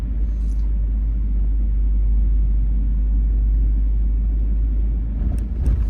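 A car cruising slowly along Torresdale Avenue in Philadelphia's Tacony neighborhood, heard from inside as a steady low rumble of engine and road noise, with a faint clatter near the end.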